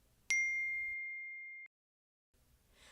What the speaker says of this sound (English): tap Text Tone to change the sound that plays when you receive a message